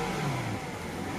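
A 2003 BMW 745Li engine revs steadily, a continuous mid-pitched car engine note with a brief swell early that then settles, close and fairly loud with no talk over it.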